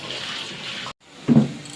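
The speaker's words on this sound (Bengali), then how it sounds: "তো এখন ধুয়ে রাখবো এটাকে" Water running from a tap while leafy greens are washed, a steady close splashing rush that cuts out briefly, then returns with a heavier gush of water hitting the leaves and sink.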